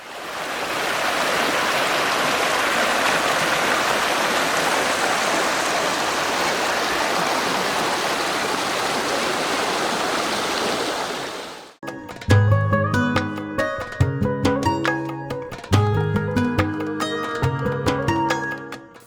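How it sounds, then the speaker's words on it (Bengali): A rain-fed mountain stream rushes down from waterfalls at Jaflong, Sylhet, in monsoon season, a loud, steady broadband roar for about twelve seconds before it cuts off abruptly and music takes over. "পাহাড়ি ঝর্ণা থেকে নেমে আসছে পানিগুলো, তো স্রোত দেখেন"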